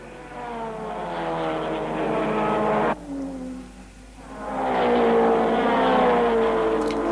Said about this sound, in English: Wharton continued leading, driving magnificently in the BRM with Roy Salvadori in the green Maserati right on his tail.